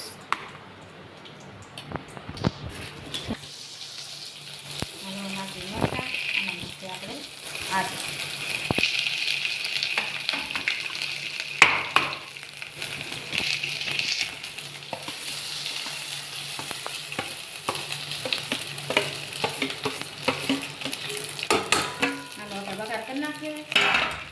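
Steady sizzling of spices frying in hot oil for a vegetable tempering with chillies and ginger, with stirring scrapes and occasional pan clinks, a voice talking over it.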